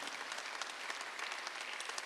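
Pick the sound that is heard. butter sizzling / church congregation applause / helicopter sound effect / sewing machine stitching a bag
church congregation applause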